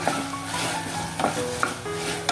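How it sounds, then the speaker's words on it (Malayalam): Chicken stirred and fried in a pan for spicy chicken Manchurian, a close continuous sizzle broken by several sharp spatula scrapes and clinks against the pan, with no one speaking. "ഇനി നമ്മൾ എടുത്ത് വെച്ചിട്ടുള്ള ചിക്കൻ കൊടുക്കാം ഇതിൽ പിടിക്കട്ടെ ഒന്ന് ഇളക്കി യോജിപ്പിച്ചതിന് ശേഷം"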